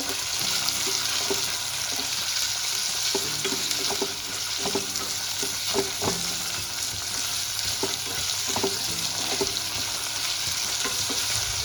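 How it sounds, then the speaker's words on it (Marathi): Long-sliced onions and a finely chopped tomato fry in a pan, with a steady bright sizzle throughout and repeated soft scraping clicks of a spatula stirring at an irregular pace, close and continuous with no voices. "2 लांबट चिरलेले कांदे अगदी व्यवस्थित असं भाजून घ्यायचं"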